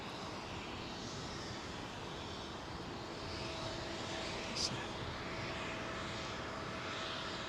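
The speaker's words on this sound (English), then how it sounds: "Oh, this is the Air Canada Max, isn't it? Wow. Long haul 737 Max, folks." An Air Canada Boeing 737 MAX climbing out from runway 09R at London Heathrow passes overhead as a faint, steady engine roar, with a brief click partway through.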